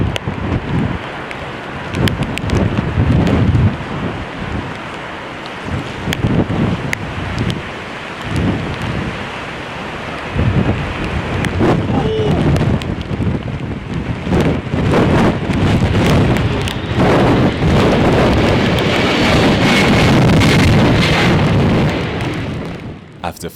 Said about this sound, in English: This Boeing 767 was unable to land during a storm at London Heathrow.